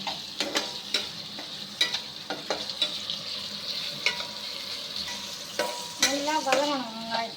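Tomatoes and onions sauté in a pan on an electric stove, with steady sizzling frying broken by repeated scraping stirs of a spoon, close and fairly loud, no voices.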